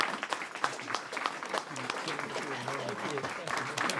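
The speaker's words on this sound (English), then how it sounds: "I just want to give our panelists a big round of applause" A conference audience applauds panelists at the close of a business and service provider discussion, a steady wash of many hands clapping at moderate volume without pause for the whole stretch.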